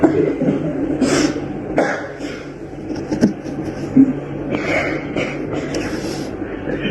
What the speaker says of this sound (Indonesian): Ya memang batuk dari tadi dan baik-baik aja